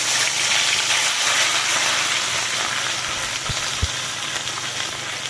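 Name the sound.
burnt onion pieces frying in oil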